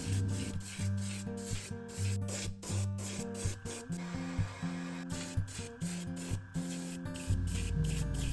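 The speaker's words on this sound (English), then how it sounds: "And once that's dry, I'll spray white pearl on the bottom of the bait," Spray paint hisses in repeated bursts onto a carved largemouth bass swimbait lure as white pearl is misted along the bottom. Steady background music plays throughout.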